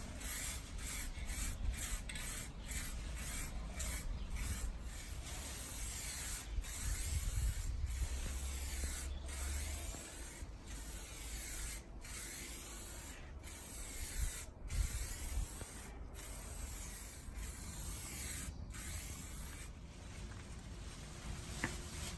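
An aerosol spray can lays a light coat of paint onto a Nissan Patrol fender, giving a steady close hiss that runs almost unbroken with slight pulsing as the can passes over the panel.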